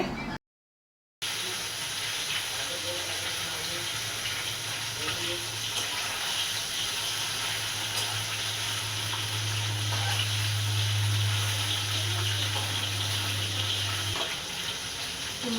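Koi fish frying in oil in a kadai gives a steady, close hiss of sizzling that runs on unbroken after a brief gap at the start.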